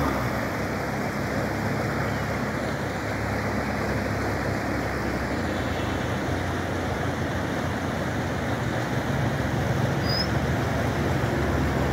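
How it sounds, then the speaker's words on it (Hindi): River flowing over stones outdoors in the Balakot area, a steady, broad rushing of water that holds at constant strength throughout, with no talk over it. "जी, और नदी चल रही है,"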